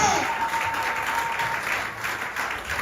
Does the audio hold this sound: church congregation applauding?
yes